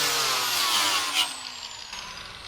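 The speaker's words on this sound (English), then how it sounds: "gonna try to sand it off with this wheel first" Sanding wheel grinding rust off the body of a Nissan Xterra, a loud, high whining abrasive hiss close by that slowly eases off over a couple of seconds.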